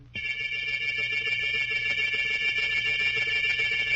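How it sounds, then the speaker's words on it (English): A summoning bell rings steadily and loudly for several seconds as a radio drama sound effect, a continuous bright electric ringing with no voices over it. "Yes, Mr. Morlock, you rang."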